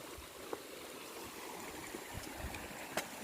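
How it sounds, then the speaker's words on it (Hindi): A mountain forest stream in the hilly countryside of Raigarh district keeps up a soft, continuous flowing wash that sounds faint and distant, with a few small splashes and no talk. "इधर से पानी बह रहा है"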